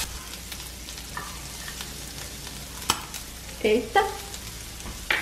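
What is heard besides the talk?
bacon frying in olive oil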